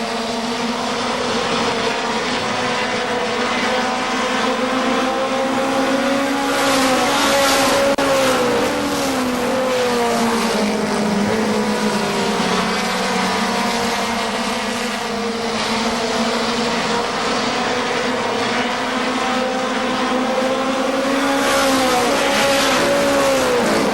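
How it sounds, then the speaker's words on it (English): Legends race cars on the KilKare Speedway oval in 1999, one running with an engine problem, as a loud, continuous engine roar with shifting pitch from passing and revving cars, without any talk. "You heard the pop and crackle as he went down the front stretch that time."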